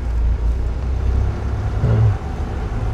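A car engine with a manual gearbox in a driving lesson: steady loud low engine rumble from inside the cabin that swells briefly as the accelerator is pressed, then settles, with no clear talking.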